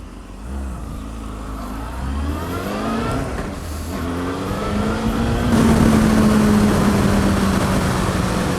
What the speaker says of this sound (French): c'était un peu risqué de faire wheeling ici en fait